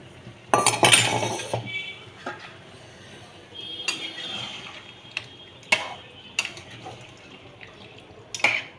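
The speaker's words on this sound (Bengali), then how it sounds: "এবার আমি জল দিয়ে দেব।" Stock left over from pressure-cooking mutton is poured back into the pot of cooking meat: a brief watery splash, then scattered light metal clinks and taps of utensils against the pot in a quiet kitchen, with no one talking.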